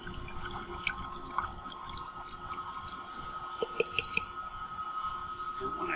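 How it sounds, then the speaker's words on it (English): Pulp slurry is poured into a vacuum filter funnel, with soft trickling and a few brief splashes over a steady background hum and faint tones. "I'm going to take the slurry, and I'm going to pour that"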